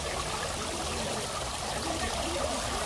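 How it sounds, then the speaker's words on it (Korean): Water runs in a steady, even rush at the Nagasaki atomic bomb site, a continuous trickling stream heard close by with no voices over it. "물이 흐르고"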